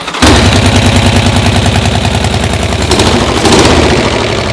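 A custom chopper motorcycle engine fires up for the first time and runs loud and close in a rapid, choppy, uneven idle, with the beat rising briefly partway through; no talk over it.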